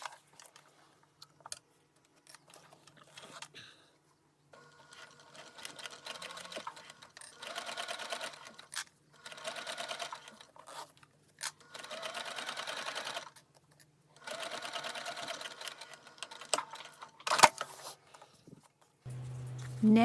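A sewing machine basting zipper tape onto a bag lining, running in several short bursts of rapid stitching separated by pauses, close and fairly quiet, with small handling clicks and no talking.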